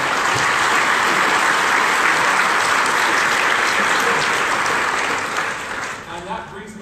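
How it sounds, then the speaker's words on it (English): A large conference audience at an entrepreneur summit gives a big round of applause, loud and sustained clapping that fills the room before thinning out and fading near the end. "can you please give them all a big round of applause?"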